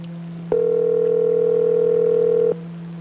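A telephone dial tone sounds as a single steady hum lasting about two seconds, loud and clean over a low constant background buzz.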